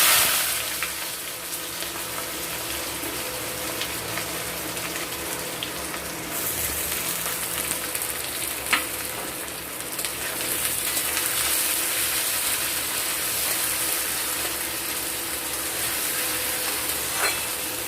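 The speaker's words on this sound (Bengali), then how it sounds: "এরপরে দিয়ে দিব আমরা পেঁয়াজ কুচি" Chopped onion fries with whole spices in hot oil, a dense continuous sizzle with occasional crackles and stirring scrapes, close and fairly loud throughout without talking.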